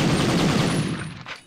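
Gunfire rattles from the 1999 PlayStation game Medal of Honor, a dense burst of rapid automatic shots up close that fades toward the end.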